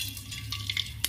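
Whole spices hit hot oil with a brief, bright sizzle and crackle: bay leaf, green and black cardamom, cinnamon and black pepper. A few sharp spits pop at close range.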